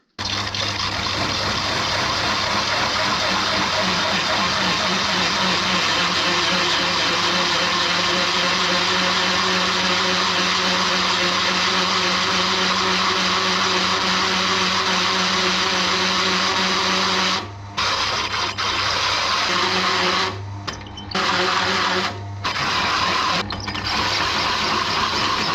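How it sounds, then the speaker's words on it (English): A drill press runs with a loud, steady whirring motor drone for most of the time, then cuts out and restarts in several brief stops near the end, with no talking. "this drill press is a freaking joke"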